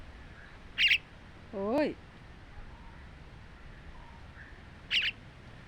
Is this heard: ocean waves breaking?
no